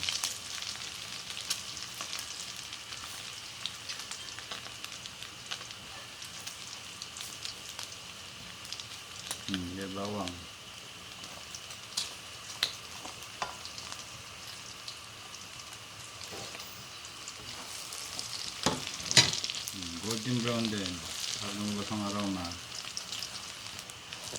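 Ginger frying in oil until golden brown for laing, a soft, steady sizzle with crackling throughout, while a voice speaks briefly a couple of times over it.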